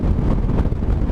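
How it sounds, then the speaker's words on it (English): Strong wind buffets the microphone in an open outdoor spot on the Mersey salt flats, a loud, close, continuous rumbling roar with gusty fluctuations. "Wow, it's going to be breezy across here."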